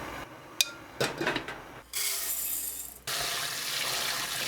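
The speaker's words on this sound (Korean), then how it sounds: "모든 곡식을 씻어 준비하는데 찹쌀을 씻은 2번째 물을 버리지 말고 모아주세요" Grains and glutinous rice are washed in water: soft swishing and rubbing in a bowl, then bursts of running water from a tap fill the second half.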